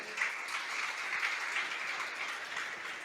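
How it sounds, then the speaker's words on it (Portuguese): A church congregation claps in sustained, even applause, a dense wash of hands that holds steady at moderate loudness throughout with no speech over it. "Você pode aplaudir ao Senhor?"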